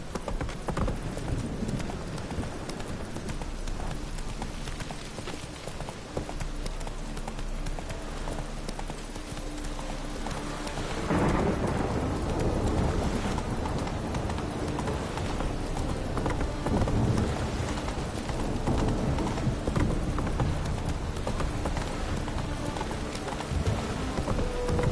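Roach, the horse from the video game The Witcher 3, gallops with steady rhythmic hoofbeats over a continuous rumble of game ambience that sounds like rain and wind, growing louder midway through.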